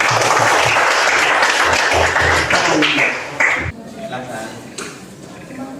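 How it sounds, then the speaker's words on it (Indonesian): Dense applause from a classroom full of people fills the first few seconds, then tapers off into scattered claps and faint murmuring. "Mari kita apresiasikan, memberikan tepuk tangan."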